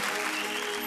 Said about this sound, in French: Je vous demande d'applaudir le jury